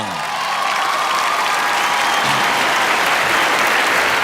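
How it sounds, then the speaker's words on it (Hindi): A big crowd at the Filmfare Awards show bursts into loud, dense applause as Alia comes on stage, the clapping swelling quickly and holding strong throughout, with faint cheers mixed in. "finally, तालियां for आलिया"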